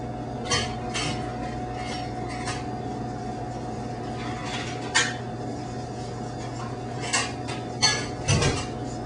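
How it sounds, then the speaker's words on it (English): Handmade pasta dough being mixed in a bowl, with a steady fan-like hum underneath and a few scattered light clinks and knocks of the bowl, close and without talk. "Give the bowl a little shake."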